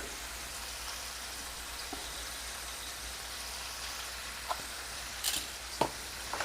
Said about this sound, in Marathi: हे आता छानपैकी आपल्याला परतून घ्यायचं म्हणजे शिजवून घ्यायचं आहेत ॲक्च्युली तेलावर